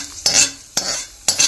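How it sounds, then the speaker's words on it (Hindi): Hot tempering of peanuts, curry leaves and green chili poured into chutney gives three sharp sizzling bursts, each fading quickly, close and loud in a home kitchen. "तो फटाफट से हमारा तड़का डाल देते हैं हमारी चटनी के अंदर।"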